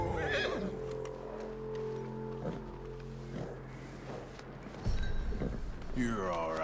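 A horse in the Red Dead Redemption 2 game neighs and whinnies loudly, with hoof clip-clops and snorting, followed by a second whinny near the end; nearby and clear against a game background.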